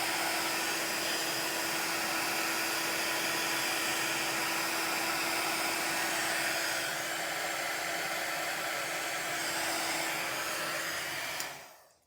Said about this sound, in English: as you hold the heat gun over the embossing powder, you will see it melting and it goes shiny.